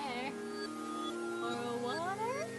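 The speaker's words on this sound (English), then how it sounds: "You can hear the yowling of what sounds like hundreds of cats outside your bathroom window." A crowd of cats yowling in a video game: layered, sliding meows and caterwauls overlapping continuously, with sharper rising cries near the end.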